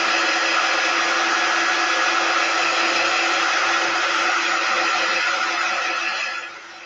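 A heat tool blowing steadily on a freshly applied chalk paste transfer for a Valentine's tiered tray, a loud continuous whirring hiss with a fixed tone that drops off suddenly at the end.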